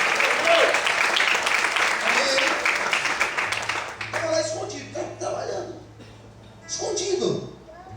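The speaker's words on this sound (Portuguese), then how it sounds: "Aplauda o Senhor de Deus." A church congregation applauds during a sermon, a dense loud burst of clapping for the first half that thins out as voices take over toward the end.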